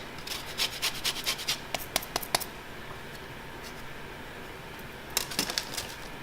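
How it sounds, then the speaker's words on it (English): Fresh lemon zest rasped on a grater for an asparagus, pea and prosciutto tart, quick scratchy strokes in close bursts, a busy run at the start, a pause, then another short burst near the end. "what I'm also going to put in here is some fresh grated lemon zest"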